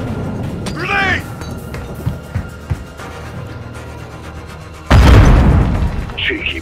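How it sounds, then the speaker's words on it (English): A grenade detonates in the video game Call of Duty MW2, a sudden loud booming blast late in the clip following gunfire pops and a shouted voice, with a lingering rumble after. "Grenade!"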